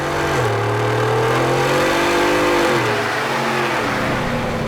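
A supercharged 650hp 2019 Roush F150 V8 revs hard with its exhaust in off-road mode, the engine note climbing and falling in two loud, close sweeps over a steady rumble, with no talking.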